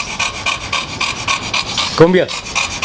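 A Boxer dog pants rapidly and rhythmically up close, quick raspy breaths repeating steadily, with a brief shout from a person partway through.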